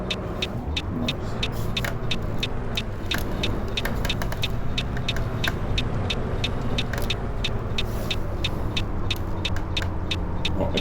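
A Scania Touring coach engine idles steadily in the Fernbus Coach Simulator game, a continuous low droning rumble with an even mechanical hum, paired with a regular series of sharp ticks, like an indicator clicking, throughout.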